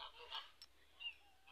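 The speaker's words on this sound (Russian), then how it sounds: "Мои гуси намыливаются домой." Several geese honk at a distance, scattered calls rising and falling over a quiet outdoor background.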